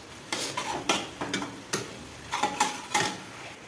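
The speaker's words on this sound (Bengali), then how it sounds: "ওইগুলোকে আমি এর মধ্যে দিয়ে দেবো, দিয়ে একটু নেড়ে নেব" A spoon scrapes and taps in a cooking pan while mustard and cashew paste is stirred in, a series of irregular clinks over a soft sizzle.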